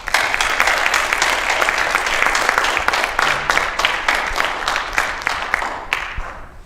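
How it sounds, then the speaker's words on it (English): Applause at a high school cross country awards event for the boys' team, a steady round of clapping from a room of people that holds evenly and then thins out toward the end. "Give yourself a round of applause"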